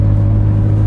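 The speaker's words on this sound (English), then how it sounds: "Listening to the purr of a twin turbo V8" Deep, steady engine drone of a McLaren 570S twin-turbo V8 in an open-top car, a loud low rumble held constant close behind the seats with no talk.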